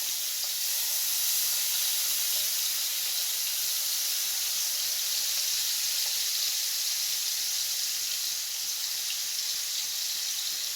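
Mussels frying in a pan on a stove give off a steady, even sizzle and hiss that runs unbroken throughout, with no voices over it.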